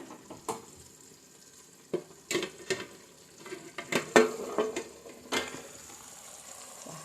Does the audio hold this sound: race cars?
no